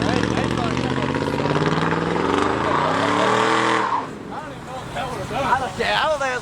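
A car revs hard at a car meet with the e-brake held, its engine climbing to a loud, rising roar close by for several seconds before dropping off into crowd noise and shouting.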